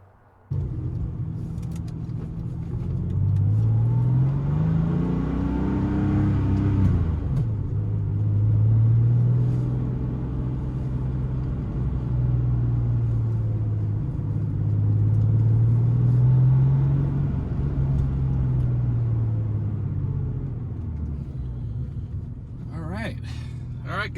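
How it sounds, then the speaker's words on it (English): An air-cooled 1998 Porsche 911 Carrera S (993) engine idles and then pulls away, rising and falling through several gear changes, a low steady drone up close with a person talking over it. "fire it up, and let's go for a drive right now"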